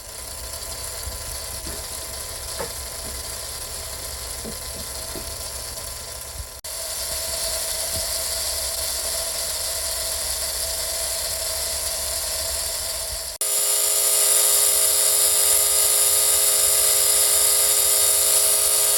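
A slot car motor for a Mitsubishi Evo X model runs continuously on a break-in test rig, a steady close mechanical whine that shifts pitch twice as the speed changes.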